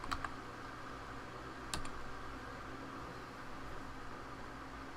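Keys clacking on a computer keyboard, a few isolated clicks and a brief burst of typing against a steady background hiss, with no voices.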